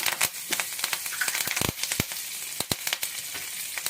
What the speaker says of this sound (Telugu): ఇప్పుడు కరివేపాకు కూడా వేస్తాం